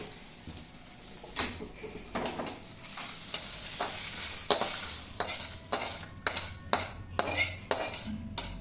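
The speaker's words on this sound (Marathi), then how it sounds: "इथं बघा बिया आपल्या चांगल्या भाजल्यात" Seeds roasting in a pan are stirred with a metal utensil, giving repeated scraping clinks and taps in an uneven rhythm over a faint, steady sizzle, close by and without talking.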